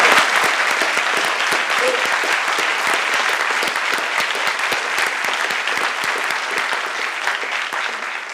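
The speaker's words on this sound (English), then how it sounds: "I was going to clap for you. You should clap." A roomful of people clap steadily at a Princeton news conference honoring a Nobel Prize laureate in physics, dense sustained applause that holds loud and even throughout with faint crowd murmur beneath.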